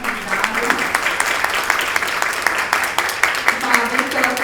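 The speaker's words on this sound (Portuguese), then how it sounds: "Palmas para o nosso convidado." Audience gives a guest lecturer a round of applause at a summer school event on AI in education, with steady rhythmic clapping throughout and voices talking over it.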